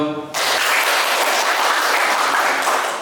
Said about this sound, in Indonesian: Tepuk tangan yang kedua untuk kita semua.